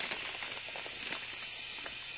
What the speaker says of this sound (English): You cannot have this kind of steam coming out continuation like this.